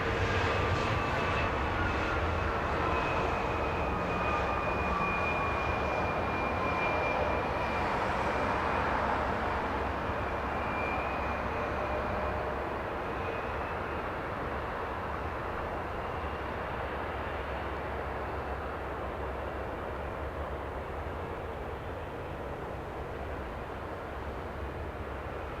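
An airliner taxiing in to park at Tom Bradley International terminal at LAX gives a steady, loud engine rumble with a whining tone that slowly drifts down and fades slightly over time, heard alone.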